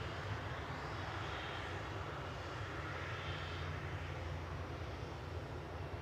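Gulf Air airliner departing Manchester Airport for Bahrain, a steady broadband engine roar with low rumble that holds constant and fairly distant throughout, no voices.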